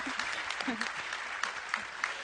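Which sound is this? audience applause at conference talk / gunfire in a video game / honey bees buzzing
audience applause at conference talk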